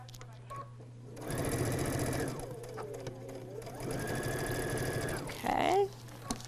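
A sewing machine stitches mini quilt fabric up close, running in two loud, steady whirring bursts separated by a short pause, with a brief higher sound near the end.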